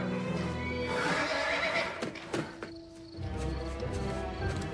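Horses whinny loudly and close by in a scene from the film Jeepers Creepers 3, several high neighs rising and falling, with hooves shuffling and thudding in between.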